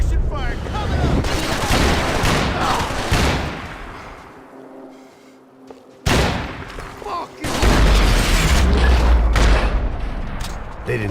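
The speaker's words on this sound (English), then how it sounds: "Suppression fire coming up." Heavy suppression fire in Max Payne 3, dense sustained bursts of automatic gunfire and booms, dropping into a quieter lull midway before a loud renewed barrage, with voices briefly audible among the shooting.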